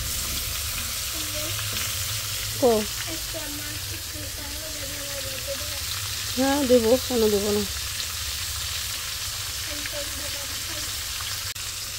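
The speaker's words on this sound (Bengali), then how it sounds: "মাছগুলো কড়া ভাজা করতেছি," Fish deep-frying crisp in hot oil gives a continuous, even sizzle for the whole stretch, with someone speaking briefly over it a couple of times.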